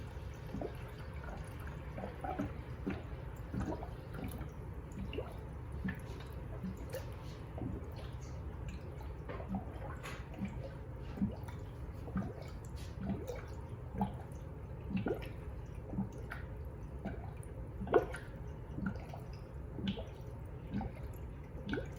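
Regular tap water pours and drips into a car radiator, a steady low trickle with scattered sharp drip-like splashes running continuously at close range, no talk over it.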